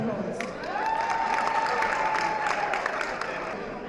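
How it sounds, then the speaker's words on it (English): An audience applauds at a charity golf event, a steady wash of clapping and crowd noise that holds for several seconds before easing, with a faint tone running beneath. "can I please have another round of applause?"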